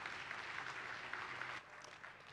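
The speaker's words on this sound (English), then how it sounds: "I think it deserves a longer round of applause." A conference audience at the Mastercard Foundation EdTech Conference applauds steadily as a dense, even wash of clapping, then drops to a quieter level during the last second.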